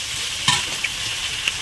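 Chicken frying in a pan with a close, steady sizzle and a few light clicks of stirring.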